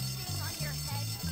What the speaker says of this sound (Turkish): Okulda yangın alarmı çalıyor